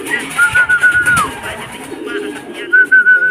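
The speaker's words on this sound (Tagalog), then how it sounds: "Ayaw pa magsilipad mga kalapatis, nahihiya pa sila." Racing pigeons coo and flutter at a loft in a repeated rhythmic burble, close and loud, with a thin whistle sounding over them in two stretches.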